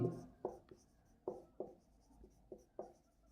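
Marker or chalk strokes on a board in a Class 7 maths lesson, with a string of short distinct scratches in an uneven rhythm, close and fairly quiet, and no talk.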